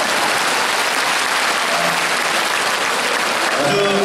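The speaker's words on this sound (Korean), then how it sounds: "박수 함께 하나 더 드릴게요." Steady, full applause from a concert audience of traditional Korean song, a loud continuous roar of many hands clapping close by with no breaks.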